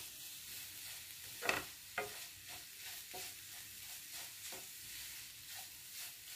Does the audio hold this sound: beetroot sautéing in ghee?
yes